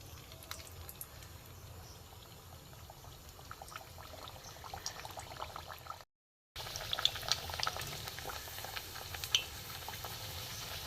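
Sweet mango luchi fry in hot oil with a continuous bubbling sizzle, crackling and popping close up, broken by a short silent gap midway before the frying resumes a little louder.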